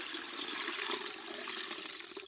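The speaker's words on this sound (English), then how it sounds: "I simply give it a stir and pour it through the strainer" Brewed Vietnamese coffee poured through a strainer without a filter into a container, a steady close liquid splash and trickle lasting a couple of seconds with no talk.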